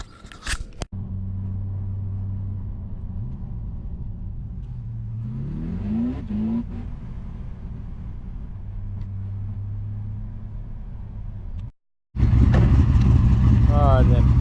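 An LS1 V8 car engine idles with a low steady burble, briefly blipped mid-way, then cutting to a much louder, rougher engine roar at the end, with someone talking over it.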